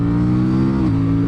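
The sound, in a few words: Aprilia Tuono 457 parallel twin motorcycle engine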